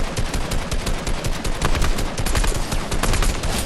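Rapid automatic gunfire in the video game Fortnite Battle Royale, dense bursts of shots crackling continuously and loudly with no talking over them.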